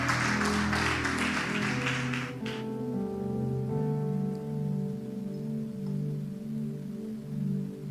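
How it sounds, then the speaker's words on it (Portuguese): A church congregation claps in a dense burst of applause for a couple of seconds before it drops away, leaving sustained keyboard chords ringing on alone. "Pode aplaudir ao Senhor."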